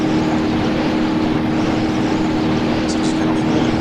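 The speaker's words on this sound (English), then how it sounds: "There's a very fine line between the engine burning and you achieving top speed." A car in BeamNG driven at extreme top speed near its engine limit, giving a steady, dense roar of engine and wind noise that holds constant and loud throughout.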